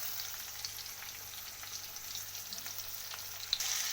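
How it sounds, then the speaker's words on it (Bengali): Chopped onion and green chilli frying in a pan: a steady, close, hissing sizzle with faint crackles throughout, and no one speaking. "তো কুচিয়ে রাখা পেঁয়াজটাকে আমি দিয়ে দিয়েছি, তার সাথে কুচিয়ে রাখা কাঁচা লঙ্কা।"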